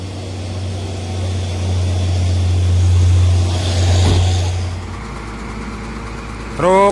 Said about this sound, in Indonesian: Truk derek mulai dihidupkan